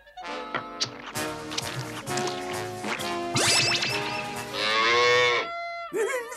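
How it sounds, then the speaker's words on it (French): A cartoon cow in a Smurfs episode lets out a long, exaggerated, bright moo that stretches and wavers across several seconds, loud and close, with a brief clattering step or two at the start. "Une vache!"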